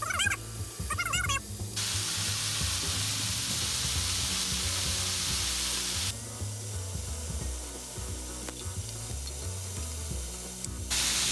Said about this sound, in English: you want to make sure that it's fried and it's not raw